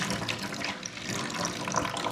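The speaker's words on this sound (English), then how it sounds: "I'll have to add some water to it to get above all of these thighs." Water pouring into a pan of chicken thighs to top up the broth, a steady, soft splashing stream heard fairly close and alone.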